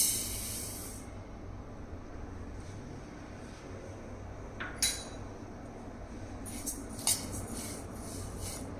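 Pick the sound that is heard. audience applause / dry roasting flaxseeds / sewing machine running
dry roasting flaxseeds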